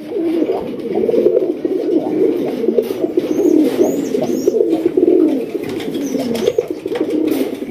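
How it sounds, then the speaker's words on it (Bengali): Several pigeons of a high-quality show breed cooing close by, a continuous layered chorus of deep, rolling coos with faint chirps above, loud and without speech. "আমরা এক এক করে কবুতরগুলো দেখানোর চেষ্টা করবো।"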